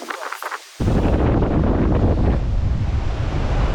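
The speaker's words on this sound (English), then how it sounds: "Wind blew hard all night, still blowing hard into the early morning." Strong wind blowing hard on a Mexican shore before sunrise, a loud, steady roar of buffeting air and surf rushing against the microphone, kicking in abruptly after a brief quieter moment.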